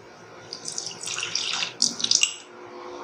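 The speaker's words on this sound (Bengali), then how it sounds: "আর এরপর এতে একটুখানি জল অ্যাড করব" A little water is poured into poppy seed paste, giving a brief, close splashing trickle that swells and then settles.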